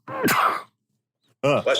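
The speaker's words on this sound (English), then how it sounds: "Had to sneeze." A single abrupt sneeze bursts out close to the microphone, followed after a brief pause by a short spoken word.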